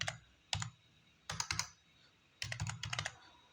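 Bursts of clicky keystrokes on a computer keyboard while Java code is typed, three short clusters of rapid taps separated by pauses, fairly close and alone without talk.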